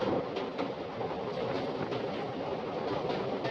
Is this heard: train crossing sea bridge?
yes